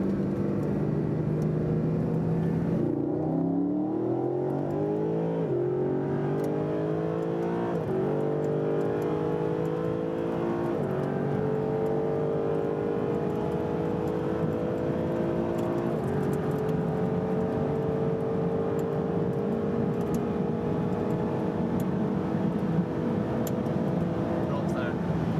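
A Ferrari accelerating hard in a race, its engine note climbing through several gear changes and then holding a loud, steady drone, close and dominating throughout.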